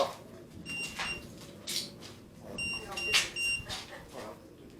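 At a farm, a ghost-hunting detector gives faint, thin electronic beeps in two short clusters, half buried under people talking in a room.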